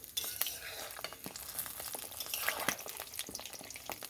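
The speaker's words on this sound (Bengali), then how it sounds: "আমি এবার একটু আস্তে আস্তে নেড়ে দেব দেখুন" A spoon slowly stirs a thickening anandanaru sweet mixture in a pan, giving soft scraping strokes and light sizzling, with faint clinks, heard close and fairly quiet.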